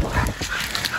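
A hunting dog during a boar hunt, giving short close yips and whimpering barks in one brief, busy burst.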